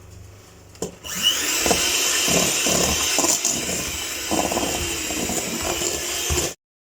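An electric whisk beats eggs into creamed butter and sugar for New York style chocolate chip cookies, a steady loud whirring drone with light clatter against the bowl, running for about five seconds before stopping abruptly.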